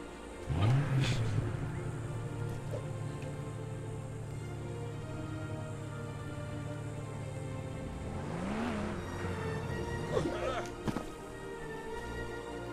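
A car in the LEGO Jurassic World game, its engine humming steadily with a rising rev at the start and again near the end, under game ambience and bits of chatter.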